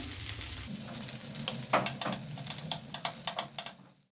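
Basa fish fillet fries in hot oil, a soft steady sizzle with light crackles and a few clinks and scraping stirs toward the end, fairly quiet and without talk.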